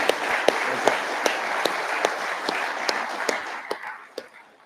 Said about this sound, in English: give this team another round of applause